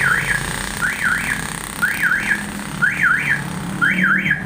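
Anti-theft alarm buzzer on a Honda PCX 160 scooter sounds in five repeating bursts of rising-and-falling electronic warble, each about half a second, spaced roughly a second apart over a low background hum.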